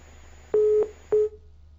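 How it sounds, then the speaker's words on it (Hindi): Two short electronic beeps of a disconnected phone call heard on a broadcast line, each tone a steady pitch lasting about a quarter second and separated by a brief gap, clear and alone over faint background hiss. "फोन डिस्कनेक्ट हो गया है, हम दोबारा जोड़ने की कोशिश करेंगे।"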